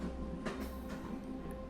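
A train rumbles past steadily, a continuous low mechanical roar with faint rattling, fairly close and unbroken throughout.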